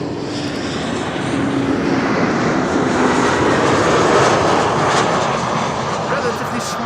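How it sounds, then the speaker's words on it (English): An Embraer 190 jet arriving from Belfast at Amsterdam Schiphol Airport gives a loud, sustained engine roar throughout, with someone talking over it. "This is an Embraer 190."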